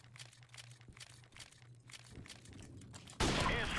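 Rapid M16 rifle bursts from Modern Warfare Remastered in a Cage Match, a string of crackling shots through the first two seconds, then a louder, harsher burst of fire near the end, with no voices.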